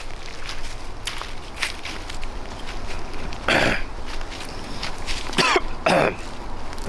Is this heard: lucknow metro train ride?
no